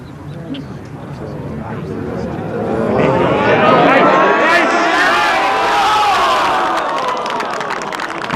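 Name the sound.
golf crowd cheering and applauding a birdie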